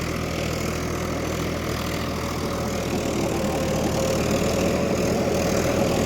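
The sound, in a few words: John Deere 5050D tractor engine running at 1600 rpm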